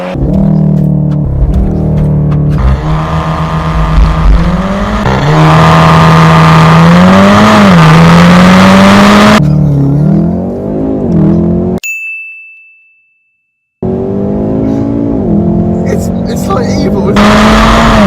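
A VW Golf R engine revs hard during launch control and holds at high pitch, rising and falling, then cuts out abruptly before roaring back; a chime sounds during the gap.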